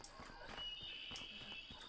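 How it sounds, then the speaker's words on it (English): A deer pig in The Lancaster Leak gives short, high, whinny-like squeals mixed with thudding steps, a few quick cries repeating close by at moderate volume. "I definitely hear him squealing at us."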